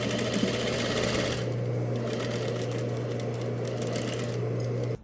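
A sewing machine stitches a welt pocket seam with a steady, close, whirring mechanical hum and rapid needle chatter running continuously, then stopping abruptly at the end.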